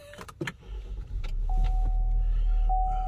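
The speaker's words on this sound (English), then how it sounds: "Let's turn the car on, because it's hot." A 2020 Chevrolet Equinox being switched on, with clicks and rustles from inside the cabin, then a low rumble that builds and holds steady alongside a thin electronic tone.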